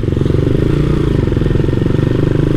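Honda Monkey motorcycle bored up to 181 cc rumbles loudly while being ridden, its engine holding a steady throbbing pulse close to the listener.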